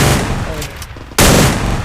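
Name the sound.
gunfire in Free Fire video game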